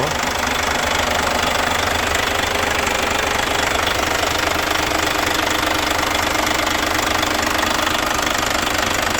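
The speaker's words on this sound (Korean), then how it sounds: "여기가 엔진실이고요." A Chosun Bus New Granbird 45-seat coach's diesel engine, rated 425 horsepower, idles in its engine compartment, a loud, steady, close-up rumble with a constant knocking rattle throughout.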